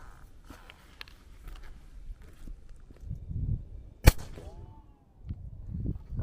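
A quiet shot from an 8.6 Blackout bolt-action rifle firing a heavy 313 grain cast lead bullet outdoors, one sharp short crack standing out from faint background rustle and movement.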